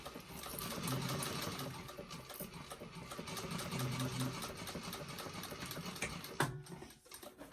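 Sewing machine basting a flap onto a bag panel, a faint, steady mechanical whirr with rhythmic stitching that runs continuously and stops near the end with a small clunk.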